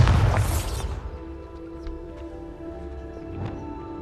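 A Bombarda spell explodes in Hogwarts Legacy with one loud, sharp blast that fades over about a second into a low, quiet magical hum.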